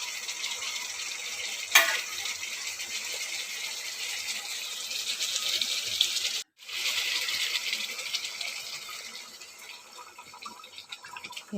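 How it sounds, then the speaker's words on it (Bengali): Boiled hot water is poured into a pot of potatoes for a Bengali fish curry with potatoes, a steady splashing pour with a brief break partway through, heard alone at moderate volume. "ওই জলটা আলুগুলোর মধ্যে দিয়ে দেবো।"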